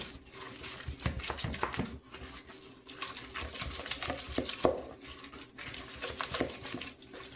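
A spoon stirs tuna salad with a splash of onion and a little lemon in a bowl for a tuna melt, making close, continuous scraping and soft clinking strokes in an irregular rhythm, with no talking.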